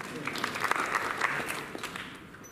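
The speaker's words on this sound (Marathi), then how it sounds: "पण थोडासा परत एकदा टाळ्या होऊ द्या." Audience applause at a book launch ceremony in Aundh, a steady wash of clapping that holds at moderate loudness and thins slightly toward the end, with a voice faintly audible underneath.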